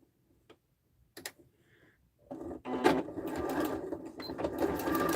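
Sewing machine stitching a patchwork duffle bag, a few short bursts of mechanical whirring and ticking followed by a steady, fast run of stitching that grows louder and continues to the end.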